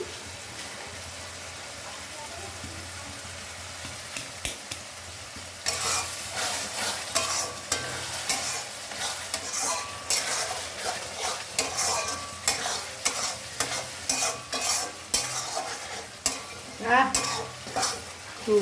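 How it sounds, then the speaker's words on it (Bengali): Potatoes being stirred and fried in a pan, a quiet sizzle that gives way after a few seconds to repeated scraping strokes and clattering stirs with bursts of frying. "এবার আলুগুলো দিয়ে দিলাম, দিয়ে একটু নাড়াচাড়া করে সামান্য জল দিয়ে ঢাকা দেবো।"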